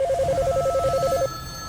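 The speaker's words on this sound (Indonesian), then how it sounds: "Hotline NASA terus-terusan berdering." A telephone hotline at NASA rings in a rapid electronic trill, a fast repeating warble lasting about a second before cutting off, loud and alone.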